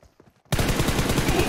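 Sudden burst of rapid automatic gunfire from a first-person shooter video game, loud and dense, kicking in after a brief quiet lead-in with faint low voice-like murmurs.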